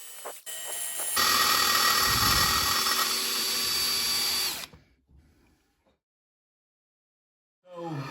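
A power drill bores into a rock-hard sheared bolt in the manifold side of a turbo housing. It gives a steady, loud whine for about three and a half seconds, then stops abruptly, followed by silence and a brief later noise.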